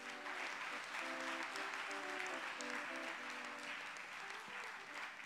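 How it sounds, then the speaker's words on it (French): A church congregation applauds steadily and sincerely, a dense, even wash of clapping that holds at a constant level throughout, with faint musical tones sustained underneath. "J'aimerais que vous vous applaudissiez de façon sincère."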